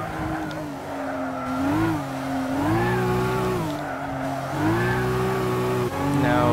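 A 2003 Volvo S60 T5 Sport laps the Streets of Willow Springs in Gran Turismo 6. The engine drones loudly and continuously, its pitch rising and falling through shifts and corners, with occasional tire squeal.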